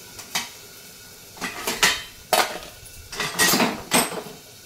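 A metal spoon clatters and scrapes against the inside of a kadai in a home kitchen, a series of sharp, uneven clinks and knocks, loud and close, with no voices.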